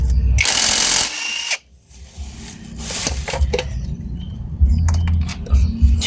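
Power tool driving out a T12 screw on a Honda Click 160 scooter: loud high whirring bursts near the start and middle, with clanking and handling noise between, close up.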